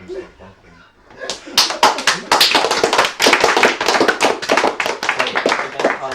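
A burst of many people clapping together, loud and close, starting after a brief quiet moment and continuing steadily to the end.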